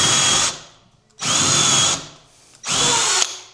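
Power drill driving hex bolts for an EV charging cable holder, three loud, close bursts of whirring about half a second to a second long, separated by brief pauses.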